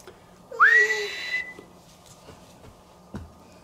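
A single sharp rising whistle, loud and close, signals that food is coming for an animal being tamed, followed by quiet and a few faint clicks.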